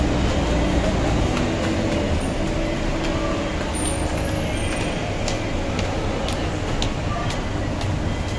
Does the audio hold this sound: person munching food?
no